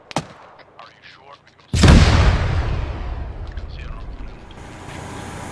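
Armored vehicle's ammunition cooking off in a war video game: a sudden loud blast after a sharp early crack, followed by a long roaring, crackling rumble of detonations that slowly fades.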